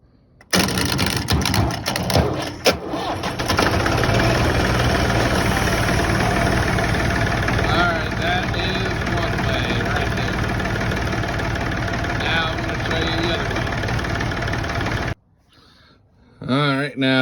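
A Massey Ferguson diesel farm tractor, jump-started with a wrench across the terminals, cranks and fires into a loud, steady rumbling idle, then cuts out abruptly before a brief restart.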